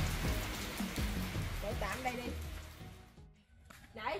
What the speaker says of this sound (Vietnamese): Trời ơi, còn mưa lâm râm kìa.